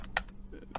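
Typing on a computer keyboard while working in Excel, a few sparse, close clicks and taps spread over a brief moment, fairly quiet, with no speech.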